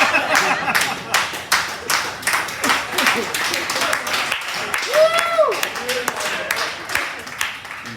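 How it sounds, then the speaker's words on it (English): Audience claps and applauds through a comedy set at Paddy's Pub in Fayetteville, North Carolina, steady dense clapping with a comedian talking over it and a few chuckles. "So I appreciate the applause breaks though"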